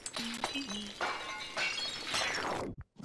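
The failed-cooking jingle from Zelda: Tears of the Kingdom plays as a bright, clattering burst with a short tonal wobble, loud and alone before cutting to near silence.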